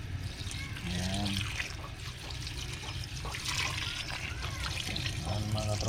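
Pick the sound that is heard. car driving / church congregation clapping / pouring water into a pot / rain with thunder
pouring water into a pot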